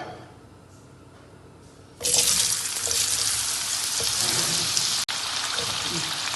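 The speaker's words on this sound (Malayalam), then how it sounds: "ഇപ്പൊ നമുക്ക് മാങ്ങയൊക്കെ ഒന്ന് കുറേശ്ശെ ഇട്ടിട്ട് വറുത്ത് പോരാം" Mango pieces for pickle dropped into hot oil, a sudden loud onset of dense, close sizzling that holds steady, with one short break.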